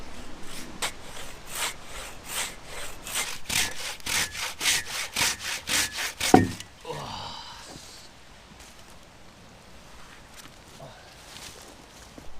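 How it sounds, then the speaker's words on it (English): A Silky pull saw cuts through a thick fallen tree trunk in strong, steady back-and-forth strokes for several seconds, then stops with a thud and a brief rustle, followed by quiet outdoor ambience. "Thankfully, we've got one of the silky saws and it's working really well."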